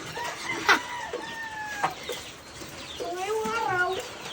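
Chickens cluck and warble close by in short bursts, with a few sharp clicks and knocks in the background.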